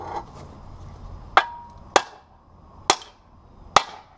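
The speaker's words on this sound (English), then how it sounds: "a couple swift hits here with a hammer and it'll probably slide right out" A hammer drives a worn-out rear trailing arm bushing from a Honda or Acura. Four sharp, close metallic blows land at uneven intervals over about four seconds, with quiet gaps in between.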